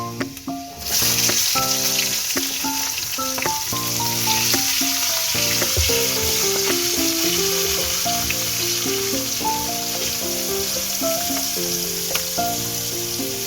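Onions hit hot oil just after a garlic tempering for chicken curry, starting a dense, steady sizzle that runs loud and unbroken beneath a melodic music track.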